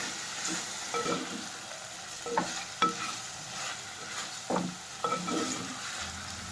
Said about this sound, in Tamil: இப்போ குட்டி குட்டியாக கட் பண்ணி வச்சுருக்க கத்திரிக்காய் சேர்த்துக்கலாம். இது நல்லா மிக்ஸ் பண்ணி ஒரு 2 to 3 மினிட்ஸ் நல்லா வேக வச்சு எடுத்துக்கணும்.